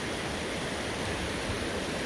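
A mountain river in the High Uintas Wilderness rushes over a trail crossing, giving a loud, steady, broadband wash of flowing water heard up close with no other sounds.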